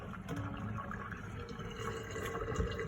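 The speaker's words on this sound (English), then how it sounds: "Okay, so I'm going to pour this water out." Water poured out of a pot of soaking beans, a steady close splashing and trickling stream lasting a few seconds without talk.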